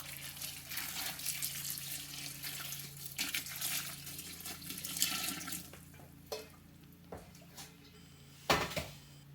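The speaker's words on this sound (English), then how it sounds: "Have water I've been heating on the stove. I'm going to pour right in here onto this bag." Hot water from a stovetop pot poured onto a knitted bag in a basin for felting, a steady splashing pour with clinks and brief bumps toward the end, no talking.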